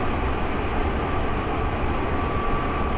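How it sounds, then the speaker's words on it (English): A local train on the Hanshin Main Line, heard as a steady, loud rumble and roar of wheels and carriage noise throughout, with no talking. "Looks like this is a local train."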